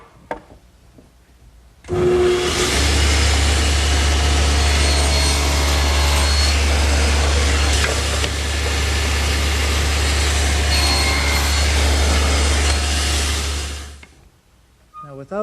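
A table saw runs steadily for about twelve seconds, a loud continuous whine over a strong low hum, cutting a 3/16-inch-deep shoulder cut across the face of a board for a tenon, with no talking.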